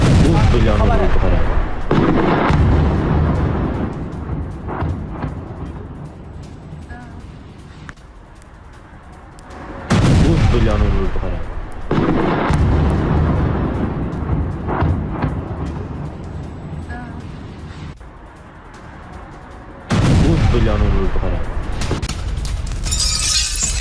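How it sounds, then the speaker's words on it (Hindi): Three heavy explosions in Moscow strike about ten seconds apart as a drone hits a crane, each a sudden loud blast followed by rumbling, crackling debris and noise. "क्रेन से टकराने के बाद बड़ा धमाका होता है"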